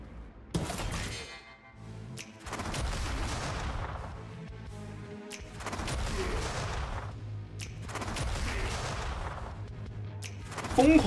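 Trap blasts and catapult impacts from The Last Spell's Dwarves of Runenberg DLC: four loud bursts of crashing explosions and debris about every 2.5 seconds, each fading into rumbling tails before a sharp final hit.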